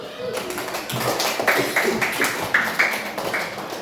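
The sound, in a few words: schoolchildren clapping in class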